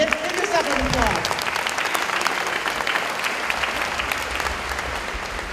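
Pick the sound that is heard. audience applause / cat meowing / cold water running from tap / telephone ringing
audience applause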